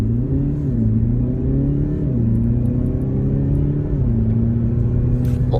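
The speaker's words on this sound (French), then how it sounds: "c'est un petit moteur hein, quand même, 4 cylindres qui fait à peu près 190 chevaux associé du coup à un moteur électrique" A Mercedes GLE 350de Coupe hybrid, a four-cylinder diesel paired with an electric motor and set to sport mode, accelerates hard, its engine droning and rising in pitch through several gear changes, heard alone inside the cabin.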